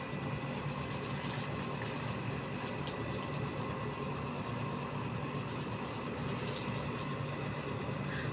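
Steady rushing water from a hose or pump washes over a cement floor, running continuously at moderate level with a faint splashy hiss and no talking.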